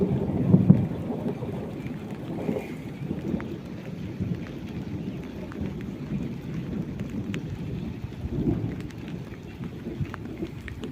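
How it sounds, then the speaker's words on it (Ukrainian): Steady rain from a weak thunderstorm hisses and patters continuously, with a low rumble underneath and a few louder bursts; no one speaks. "дощ до сих пор іде"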